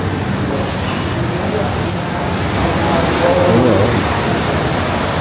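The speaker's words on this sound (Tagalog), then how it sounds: "may bagyo pa rin." Steady heavy rain pours during a storm at a beach resort in Subic, beside a restaurant and pool, a dense continuous hiss with brief speech over it.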